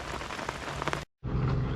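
Steady rain and wind on an outdoor carp fishing bank in a match, a dense, continuous hiss of drops with a low rumble beneath. It cuts out briefly mid-way, then returns just as loud and close.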